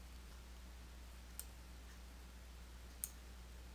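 Two crisp, isolated mouse-button clicks about a second and a half apart, close and quiet over a faint steady hum, during a software tutorial on formatting table cells; no talking.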